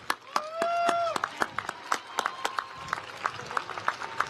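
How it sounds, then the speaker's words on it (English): A commencement audience gives master's graduates another round of applause: scattered, fairly close claps with a few whistling cheers at the start, then thinning to sparse individual claps. "Let's give our master's graduates another round of applause."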